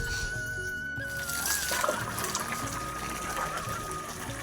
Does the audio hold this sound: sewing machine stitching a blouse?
no